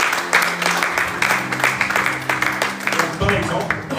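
A church congregation claps and cheers in a continuous wash of applause with rhythmic clapping beats, while a voice talks over it.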